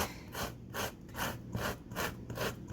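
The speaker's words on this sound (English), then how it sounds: "Make sure you're moving that fruit around as you're zesting so you don't go too deep." Citrus fruit scraped gently across the rough side of a microplane grater, a run of about six steady rasping strokes in an even back-and-forth rhythm, close and fairly loud with no talking.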